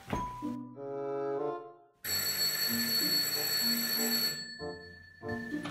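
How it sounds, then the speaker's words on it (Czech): A ringing bell, bright and sustained tones that repeat in several bursts under background music. "už se někdo zvoní"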